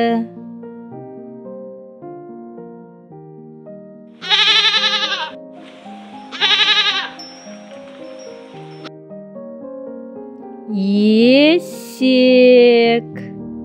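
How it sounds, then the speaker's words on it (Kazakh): Goat bleating, a domestic farm animal: several loud, wavering bleats come close together and alone, harmonic and nasal, the last ones rising in pitch, over a soft background of music. "Ешкі."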